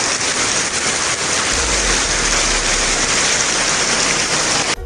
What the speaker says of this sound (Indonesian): Kena hujan dah.